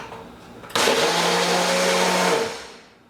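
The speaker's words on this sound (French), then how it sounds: "Je vais le brasser." A kitchen blender kicks on abruptly to blend a fruit smoothie, whirring loud and steady for about a second and a half before spinning down, close up with no talk.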